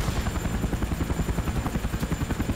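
A helicopter flying in a video game, a loud steady rotor thump with a fast regular pulse and a constant engine whine throughout, no talk over it.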